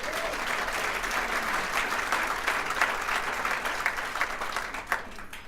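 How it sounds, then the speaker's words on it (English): A crowd at a congressional state-of-the-region event claps in sustained, dense applause that holds steady and fairly loud throughout, with a faint voice underneath. "Give him a big round of applause."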